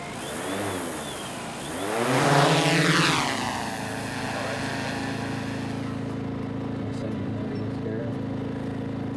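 A drone flies over public land during a Wisconsin bow hunt. It has a droning propeller whine that swells as it passes overhead near the two-second mark, then settles into a steady, fairly loud hum.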